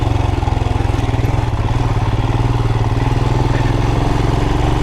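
A motorcycle engine runs steadily and loud at close range while the bike rides through mud, with a continuous throbbing drone and some clatter and no voices.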